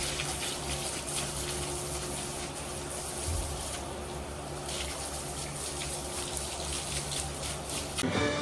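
Water runs steadily from a hose or shower while a pony is washed down after a horse riding competition in Korea, a constant close hiss and splash with no talk.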